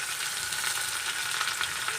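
Tomatoes and curry leaves fry in oil over browned onion, giving a steady close sizzle with faint stirring, no voices.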